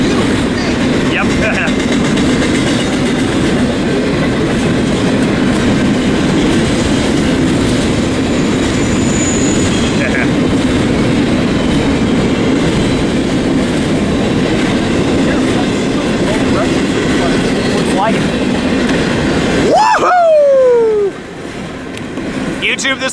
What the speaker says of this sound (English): Here comes another westbound BNSF stacker